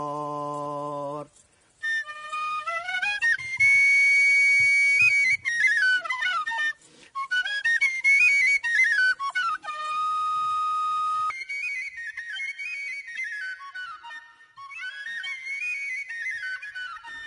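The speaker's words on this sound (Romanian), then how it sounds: "să cânte și încă la un fluier făcut de el însuși" Homemade Romanian fluier flute playing a lively folk tune, with bright, clear whistling notes in quick runs and held tones, close and alone with no talk.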